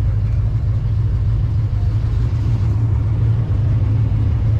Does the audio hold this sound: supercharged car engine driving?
yes